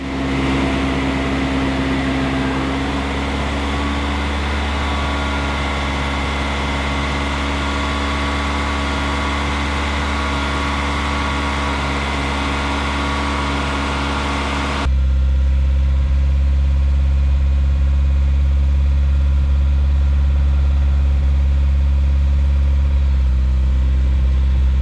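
A Mini Cooper S engine running steadily during a Seafoam intake carbon cleaning, a loud, close, continuous drone that shifts abruptly to a slightly lower, smoother tone partway through.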